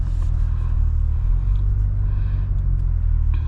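A 500 HP C8 Corvette in track mode gives a deep, loud rumble under acceleration, heard from inside the car with a steady heavy drone.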